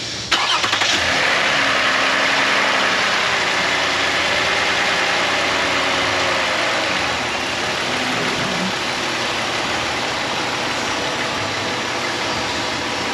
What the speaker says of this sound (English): Okay, restarting the engine.